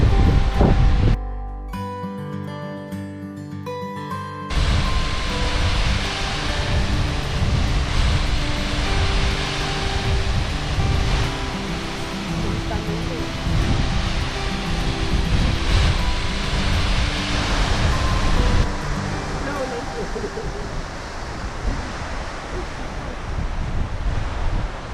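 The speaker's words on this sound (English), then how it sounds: "Finally made it up to the waterfall." Waterfall in the Pyrenees roars as a steady, loud broadband rush with wind buffeting the microphone, continuous throughout, after a brief musical sting at the start.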